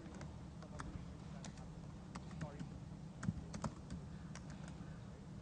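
Quick, irregular keyboard taps as a password is entered on a computer keyboard, soft and close over a steady low background hum with faint voices.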